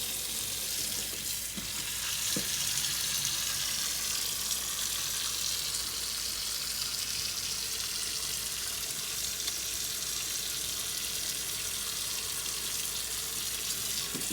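Hot water runs steadily from a tap over plantains in a constant rushing hiss, with a faint clunk near the start.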